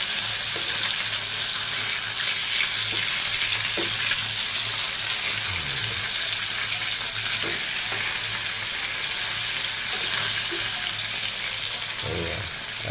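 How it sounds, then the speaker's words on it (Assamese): Fish frying in a pan gives a loud, continuous sizzle throughout, with occasional soft scrapes and stirring clinks close by. "মাছ ফ্ৰাই কৰি থকা হৈছে"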